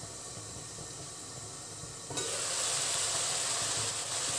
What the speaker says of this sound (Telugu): చికెన్ 2 నిమిషాలు ఫ్రై కానివ్వండి